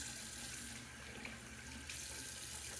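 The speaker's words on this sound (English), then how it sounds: "I'm gonna go ahead and rinse off the alum block now." Tap water runs in a steady, quiet stream while an alum block is rinsed after a wet shave, with no talking.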